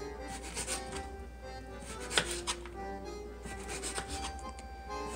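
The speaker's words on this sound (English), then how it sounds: "I will cut off part of the top. And then I will just run my knife around the edge" A knife slices around the top of a butternut squash, giving soft, close, scraping cuts with a few sharper taps against a quiet background.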